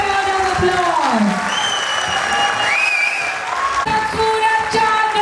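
An audience at a preschool annual day function claps steadily throughout, the applause running under voices and music that come and go over it.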